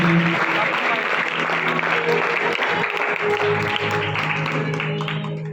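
A steady, loud round of applause from a crowd, sustained throughout and tapering slightly at the end.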